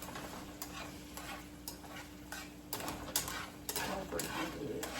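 Onions fry in a pan with a soft, steady sizzle, broken by regular scraping stir strokes close by.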